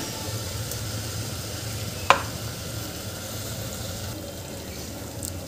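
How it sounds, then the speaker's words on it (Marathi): Tomato puree cooks in a pan with a steady, soft sizzle and bubbling, broken once by a single sharp clink of a utensil. "आता यामध्ये आपल्याला ही जी टोमॅटोची प्युरी केली होती ही घालून घ्यायची आहे"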